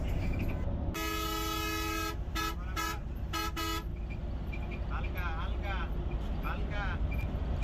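A Hino RN air-conditioned intercity bus on a night run sounds its horn in several sharp toots, one long blast then short repeated honks, over a steady engine and road drone inside the cabin.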